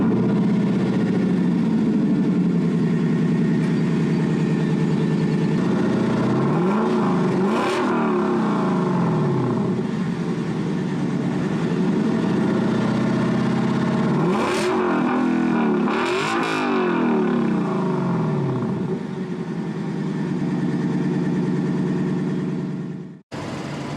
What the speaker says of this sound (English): I'm gonna go crank it up.